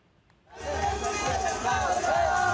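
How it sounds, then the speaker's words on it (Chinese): A large crowd of Netanyahu supporters at an Israeli election-night gathering bursts into loud cheering and shouting after a brief quiet moment, a dense sustained roar of many voices close by. "支持以色列前总理纳坦雅胡的选民大声欢呼"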